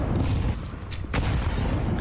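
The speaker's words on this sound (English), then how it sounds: "Good grenades from Navi" Grenades explode during a professional Counter-Strike match between NAVI and M80, with dense, loud rumbling blasts that fill the clip and a sharp burst just past the middle.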